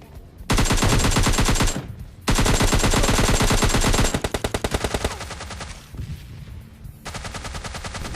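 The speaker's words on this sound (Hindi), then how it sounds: "क्योंकि बिल्कुल यहीं से कहीं से ओम की गन शॉट्स की आवाज़ आती है" Loud, rapid automatic gunfire in PUBG Lite, long sustained bursts separated by short pauses, then lighter continuous rattling shots.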